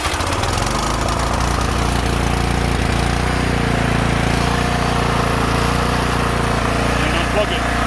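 A Troy-Bilt Storm 3090xp two-stage snow blower with a 30-inch, 357cc engine runs steadily and loudly close by, a constant low mechanical drone with a brief rougher catch near the start, as if just fired up.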